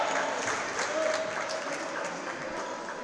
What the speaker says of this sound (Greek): Και τα χειροκροτήματα φυσικά.